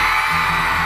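A loud, sustained roar of a concert crowd in Dubai screaming, dense and continuous for the whole short moment with no pauses.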